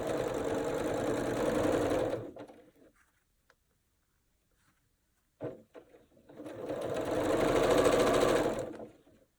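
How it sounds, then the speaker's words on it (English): A sewing machine runs in two steady bursts while stitching a quilt block unit, with a quiet pause and a brief mechanical clunk between them. "I'm going to sew that last unit on now."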